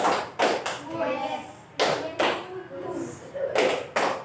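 Children in an elementary school classroom clap their hands in short counted bursts during a rhythm game, sharp group claps separated by pauses, with an adult's voice talking between the bursts.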